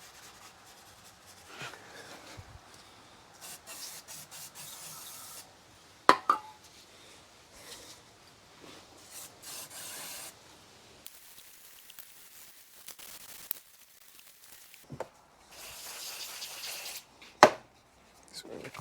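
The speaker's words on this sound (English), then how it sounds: "Just going to give this gasket surface a little bit of a clean here." A rag or scraper rubs and scrubs across the metal gasket sealing surface of a RAM 1500 transmission pan, making soft, intermittent scraping strokes with a few sharp clinks.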